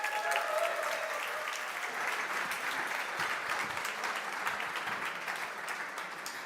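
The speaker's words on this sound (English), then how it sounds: "Give her a big applause." An audience at an energy startup award ceremony applauds as a presenter comes on stage, with dense, steady clapping that fills the room at moderate level and tapers slightly toward the end.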